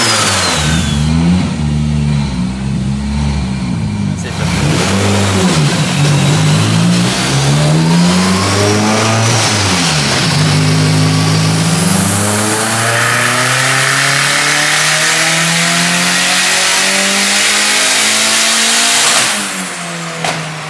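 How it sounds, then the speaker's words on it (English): A rear-wheel-drive Mitsubishi Lancer engine revs hard on a dyno, climbing and falling in repeated loud sweeps before settling into a sustained high-rpm wail and cutting off near the end, with no voices. "it's finally time to drive the car out of the shop under its own power and take it to the dyno for a tune"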